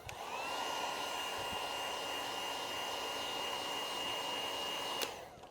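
A heat gun blows hot air onto paint protection film, giving a close, steady whooshing drone that runs for several seconds and ends with a short click.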